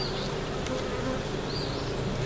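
Honey bees buzz steadily and close by in a bee yard, a dense droning hum with individual insects whining past.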